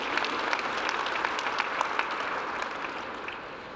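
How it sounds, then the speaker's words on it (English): An audience at a general session of a fleet managers' event claps in steady, dense applause that fades slightly toward the end. "a round of applause for them, please"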